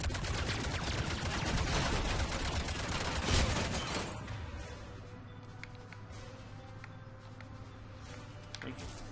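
Rapid, dense gunfire from the Mass Effect 3 video game roars loudly for about four seconds, then drops to quieter scattered shots and low ambient hum.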